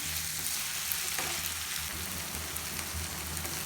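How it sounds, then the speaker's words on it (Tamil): Steady, bright sizzling of onions and garlic frying in a hot pan, continuous and close, with faint stirring scrapes. "இதையும் சேர்த்து நல்லா வதக்கி வச்சுக்கலாம்."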